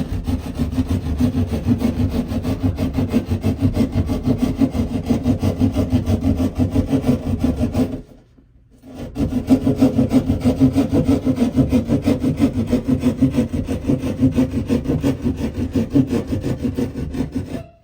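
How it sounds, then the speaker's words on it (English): A Sawzall blade fitted to a Stanley hand-saw handle cuts with fast, steady back-and-forth rasping strokes, close and continuous, with one brief pause about halfway through. "this is made by Stanley, and you just attach a sawzall blade to it"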